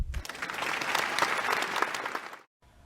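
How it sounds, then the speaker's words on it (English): Crowd applause welcoming a psychology professor guest, a brisk burst of many hands clapping that swells and then cuts off abruptly near the end. "Please give a round of applause for Erkison."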